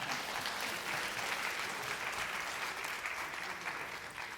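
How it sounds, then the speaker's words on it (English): Steady applause from an audience at a school district literacy competition, honoring first grade participants; dense, continuous clapping that holds evenly for several seconds at moderate level. "Let's give a round of applause to all of our first grade participants"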